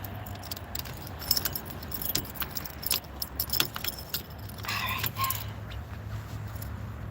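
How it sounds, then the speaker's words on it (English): Car keys jangle and clink in several short bursts while a car door is locked outdoors at a park, with faint vehicle and ambient noise behind. "Let me lock the door."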